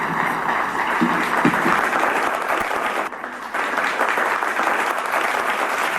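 An audience applauds loudly and steadily after the IGAD executive secretary's annual address in Ethiopia, with a brief dip midway before the clapping swells again.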